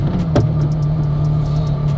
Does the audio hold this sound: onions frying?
no